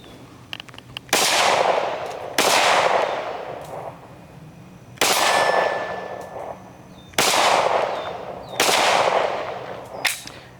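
5.7x28mm pistol shots from an FN Five-seveN and a PSA Rock fired outdoors, about six loud sharp cracks at irregular intervals, each followed by a long ringing decay.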